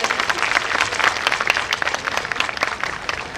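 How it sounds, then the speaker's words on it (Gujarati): Enthusiastic clapping from a crowd at a Navratri garba program, a dense, uneven burst of many hands close by, lasting a few seconds without talk. "ડુંગરસિંહ દાદાના લાગણીશીલ શબ્દો માટે જોરદાર તાળીઓ થઈ જાય"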